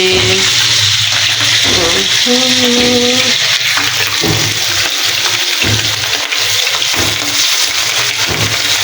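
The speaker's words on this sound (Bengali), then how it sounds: "এই তো এখানে মাছ ভাজা বসে গিয়েছি" Loud, constant sizzle of fish frying in hot oil, with brief muffled tonal sounds and clinks in the background, no clear talk.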